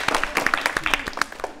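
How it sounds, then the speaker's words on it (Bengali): A studio audience on a televised children's quiz show claps in a brief, steady round of applause, dense overlapping hand claps close by, with a host's voice mixed in. "তার জন্য আমরা আরো একটি জোরে করতালি দেই"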